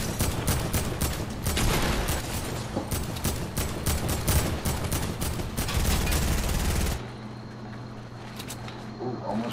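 Gunfire in the video game Fortnite, rapid bursts of shots crackling densely for about seven seconds before stopping abruptly, leaving a quieter hum with faint talk.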